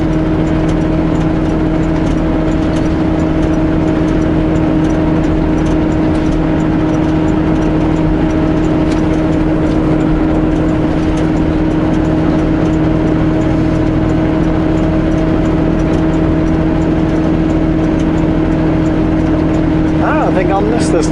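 A truck engine drones steadily from inside the cab while driving, a constant low hum with a strong tonal rumble and road noise throughout, with no pauses.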